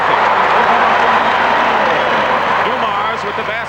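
Home crowd at a 1986 Detroit Pistons versus Los Angeles Lakers basketball game in an arena, roaring and clapping in a loud, steady wash that eases slightly at the end, with an announcer talking over it.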